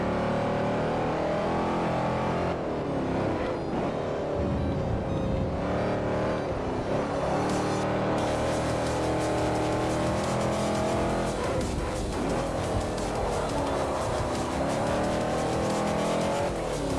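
Chevrolet Chevelle SS engine in a racing game, a heavy V8 droning and revving continuously at high loudness, with gear shifts and tire squeal layered over steady driving throughout.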